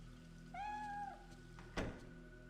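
A cat in Fatal Frame III gives a single clear, mid-length meow over a faint steady hum, followed by a soft thunk like a door moving.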